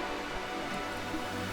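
Steady rain falling on a Glasgow city street at night, a close, even hiss of drops spattering on pavement that runs unbroken throughout, with no voices.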